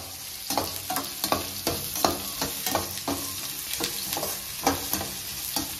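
Onions and tomatoes sautéing in a pan, with a continuous sizzle broken by regular, rhythmic scrapes of a spoon stirring about twice a second, close and steady, with no voices.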